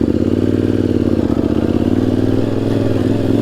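A motorcycle engine thrums loud and close, a steady clattering idle that rises slightly as the clutch meets the throttle and the bike rolls forward.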